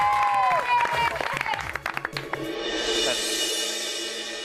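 Children applaud a student in a school setting, a burst of clapping that swells and then settles into a steady, dense patter with crowd noise underneath, close and fairly loud.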